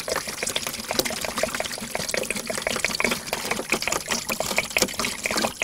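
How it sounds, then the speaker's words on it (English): Bleach poured from a gallon jug into a bucket for shock chlorination of well water, a continuous close splashing, gurgling liquid stream running steadily throughout without speech. "And I pour it into the bucket carefully."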